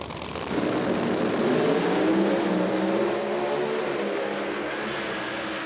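Nitro drag racing cars launching side by side at Durana Dragway during an IHRA Outlaw Nitro event, a loud sustained roaring blast that builds quickly, holds, then recedes slightly as the cars pull away down the track.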